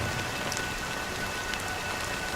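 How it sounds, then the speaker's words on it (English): Rain falls steadily in the video game Honkai Star Rail, a dense, even hiss of drops on surfaces with a few sharper spatters, continuous and close with no speech. "But it's still raining."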